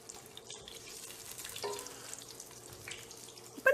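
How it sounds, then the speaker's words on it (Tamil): Cashew nuts fry in a pan for coconut milk rice, giving a faint, steady crackle with soft scraping from stirring, plus a brief sharp knock at the very end. "இப்போ முந்திரி பருப்பு போட்டு வறுத்துடலாம்."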